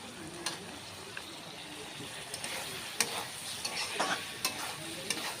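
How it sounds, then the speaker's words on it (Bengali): Mutton fat cooking with masala in a pan, a soft continuous sizzle broken by repeated light scrapes and taps of a spoon stirring against the pan; no voices. "এবার আমি দিয়ে দেব এর মধ্যে এই মটন ফ্যাট।"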